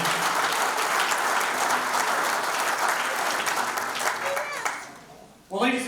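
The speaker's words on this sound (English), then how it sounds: "Please give these folks a big round of applause." Audience applause honoring patron sponsors at a hall of fame event, loud and sustained before tapering off, with a voice starting up at the end.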